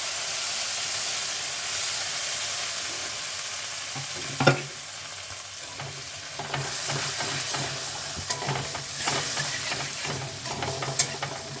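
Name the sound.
black cumin frying in oil in a wok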